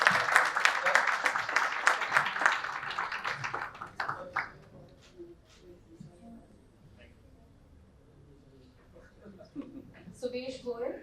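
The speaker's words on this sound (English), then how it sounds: "Ladies and gentlemen, please a round of applause for them." An audience at a business event on launch strategies for D2C and B2B markets applauds speakers on stage. A burst of clapping lasts a few seconds, then fades into a quieter room where voices talk faintly.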